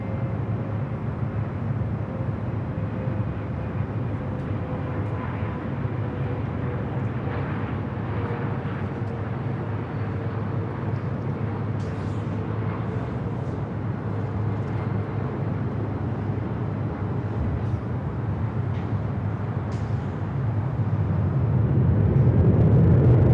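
A JetBlue jet airliner at LAX rolls toward runway 24 left, a steady broad engine roar that builds louder near the end, heard from a distance without talk.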